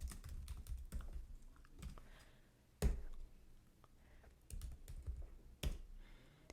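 Typing ideas into a new notes page on a computer keyboard: bursts of quick, light key clicks with a few sharper, louder taps, pausing between runs, close and quiet.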